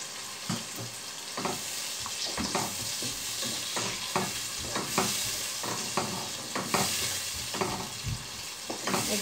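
Prawns frying with turnip in a pan, a bright dense sizzle punctuated by frequent rhythmic stirring scrapes of a spoon against the metal, close and without speech.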